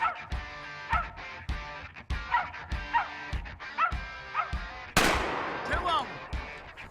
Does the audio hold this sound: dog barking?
yes